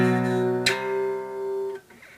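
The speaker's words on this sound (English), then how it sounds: "Alright, so we're going to slide that up half a step" An electric guitar 3-5 power chord for a song sustains, then a scraping slide carries it up half a step. The new chord rings steadily and fades near the end.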